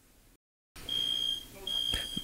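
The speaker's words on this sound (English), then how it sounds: "The smoke alarm in my house is going off" A smoke alarm, set off by smoke, sounds two high, piercing beeps in quick succession, fairly faint against a slight background hum.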